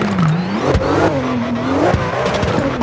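Nishimo LRL35 drifting in CarX Drift Racing 3: a loud, continuous engine drone with rising and falling revs and tire squeal as the car slides, close and steady for the whole stretch.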